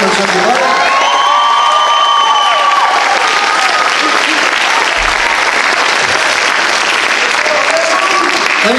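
Sustained loud applause from a high school talent show audience for all the performers, dense clapping with scattered cheers and a few voices, continuing steadily to the end.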